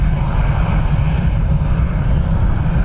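An Aer Lingus airliner departs Dublin Airport with a loud, steady jet roar and a deep rumble, continuous throughout.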